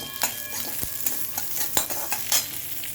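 Garlic, dried red chillies, fenugreek seeds and cumin frying in a pan for gongura chutney, a steady soft sizzle with a spoon stirring and scraping in irregular clicks and taps, close by and no talk.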